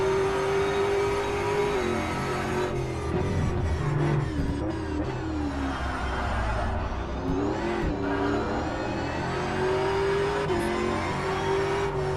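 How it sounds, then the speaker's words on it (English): A Ford Mustang Evo GT3 in a racing video game heard onboard at Laguna Seca, its engine droning loudly and steadily through the whole stretch, pitch rising and falling with shifts and throttle, and a brief tire squeal. "Switching to John Yuan's on board in the number 440 Ford Mustang Evo GT3"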